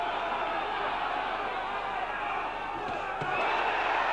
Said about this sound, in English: And the crowd going mad with excitement here.